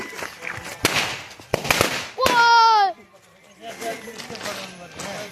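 Several sharp firecracker bangs burst close by, followed by a rising whistling screech and fainter pops, with people talking and calling out around them.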